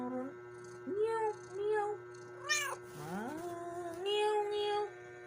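A cat meows several times in a row, each call rising and falling, fairly close and clear, with a steady hum underneath and brief gaps between calls.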